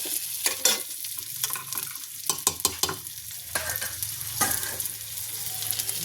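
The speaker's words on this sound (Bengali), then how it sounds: "ঘিয়েতে রান্না করছি" Boiled potatoes and fried dhoka cook in sizzling ghee, a steady crackling fry broken by repeated scrapes and knocks as a spatula stirs the pan.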